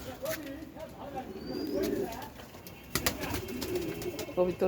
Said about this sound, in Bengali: এখানে অনেক কবুতর